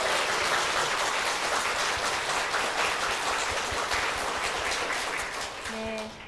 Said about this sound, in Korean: 우리 담임 목사님과 교회를 위해서 힘찬 박수 부탁드리겠습니다